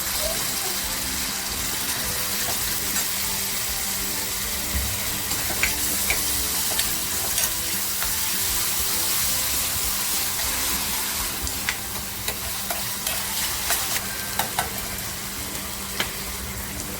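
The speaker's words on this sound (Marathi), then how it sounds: "आता जो टॅमॅटो घेतला आहे तो टॅमॅटो टाकते" Tomato hits browned onions in a pan for a small-shrimp masala, sizzling steadily and up close, with scattered clicks and scrapes of stirring building toward the end.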